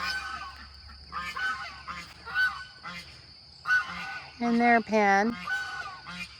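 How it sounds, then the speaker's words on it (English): Geese honk repeatedly in a lively, rhythmic chorus on a homestead farm, one bird calling loudly near the end, while a person speaks briefly. "Those are the geese"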